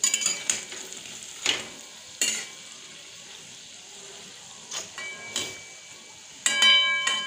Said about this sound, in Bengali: বড়াগুলো দেখুন কত সুন্দর ফুলে উঠেছে ডুমুর তেলে।